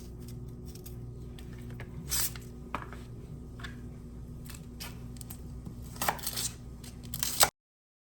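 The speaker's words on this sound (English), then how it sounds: "Smash and finely mince up the garlic" Garlic cloves smashed and finely minced with a knife on a cutting board, scattered sharp taps and chops, a few louder clusters of quick strikes, and a final hard knock over a low kitchen hum.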